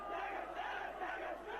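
National Defence Academy cadets cheer together after their passing out parade in Pune, a distant, faint crowd roar of overlapping shouts holding steady throughout.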